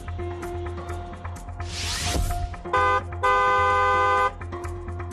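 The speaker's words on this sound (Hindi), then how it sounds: "सावधानी वाला हॉर्न बजाना जरूरी है।" A car horn sounds in two short honks, the second held longer, after a brief rushing spray-like noise over a low road rumble.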